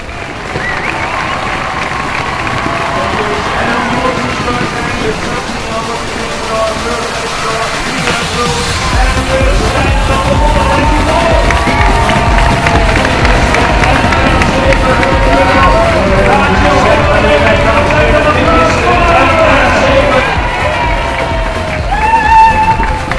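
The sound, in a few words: audience applause and cheering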